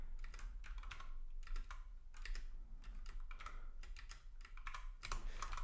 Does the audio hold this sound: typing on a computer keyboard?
yes